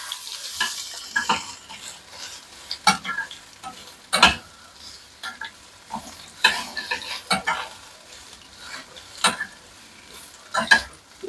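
Sweet corn and kheema samosas shallow frying in a pan, a soft sizzling bed broken by repeated sharp scraping and clattering bursts at an irregular pace.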